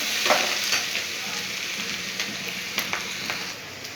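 Chowmein noodles stir-fried with winter vegetables and soy sauce in a home kitchen, a steady loud sizzle broken by scraping and tossing strokes of the spatula close by.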